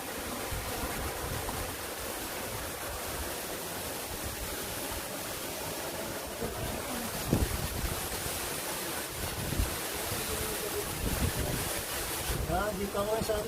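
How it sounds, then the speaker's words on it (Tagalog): The Lauterbrunnen waterfall in Switzerland roars from behind the falls as a dense, steady rush of falling water, with a few louder splashes and spoken voices over it. "Dito ako sa likod ng waterfalls, oh."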